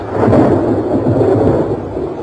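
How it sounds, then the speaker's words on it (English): Thunder from a lightning strike rolls as a loud, sustained low rumble, heavy and continuous for about two seconds with no voices. "Lightning is the most dramatic form of energy to be found in nature."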